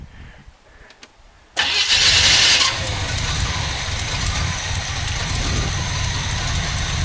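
An abandoned 1972 Corvette with a carburetor in need of rebuilding cranks and fires up suddenly after a quiet moment. A loud roar follows, then the engine settles into a rough, steady idle close by.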